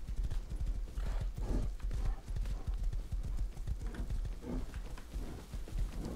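A horse in the survival video game Rust gallops with rapid, continuous clip-clop hoofbeats and occasional whinnies, moderately loud against the game's ambient sound.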